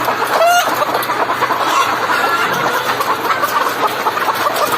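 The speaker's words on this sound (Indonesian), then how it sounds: "ini ayam putih sedang bertelur, sedang ngeden" A white hen clucks and calls loudly while straining to lay an egg, the steady close clucking running throughout over a background of other farm fowl.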